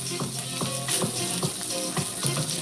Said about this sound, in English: a good 2 to 3 minutes on each side to get a good sear